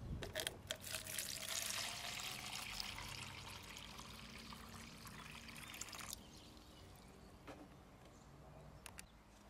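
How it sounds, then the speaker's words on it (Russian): Water pours from a watering can onto zucchini plants in a garden, about a litre per plant, a soft steady splashing that fades gradually, with a few small knocks and taps toward the end. "поливаем из расчета 1 литр под куст"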